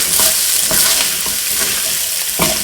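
Onions sizzle steadily in a frying pan as they turn translucent for a baked rigatoni, with a dense hiss and several sharp stirring scrapes and knocks coming through close by.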